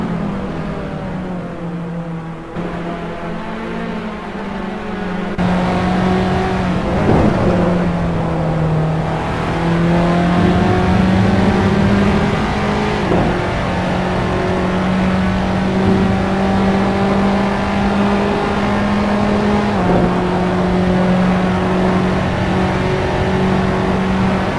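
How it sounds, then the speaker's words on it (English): SS3 race cars lap the Spa circuit in the Assetto Corsa racing game, a loud sustained engine drone heard onboard, rising and falling with gear changes and throttle through the corners, with no talk. "Great onboard shot there of Jonathan Bentz navigating his SS3 car through Blanchimont."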